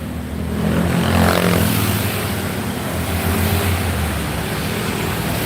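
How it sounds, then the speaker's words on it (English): Street traffic in Cebu City, a steady broadband roar of passing cars and engines with low rumbling hum, fairly loud and continuous throughout, no one talking. "It's the traffic."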